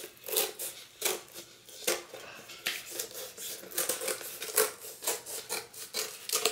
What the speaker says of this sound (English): And just cut going all the way across.